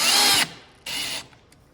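A power drill drives a screw into a mitered 45-degree wooden corner joint: a loud, close whirring burst, a short pause, then a second shorter burst as the screw seats.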